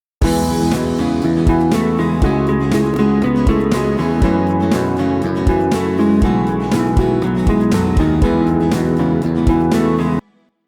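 Full rock beat with drums, bass, guitars and all other instruments combined, produced in Cubase 12 Pro, loud and dense with steady punchy drum hits, playing without talk until it stops abruptly near the end.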